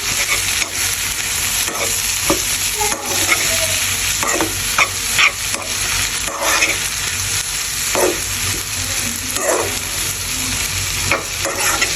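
Vegetables and garlic stir-frying for veggie egg chow mein, a steady close sizzle broken by repeated scraping and clacking of a utensil against the pan, with no talking.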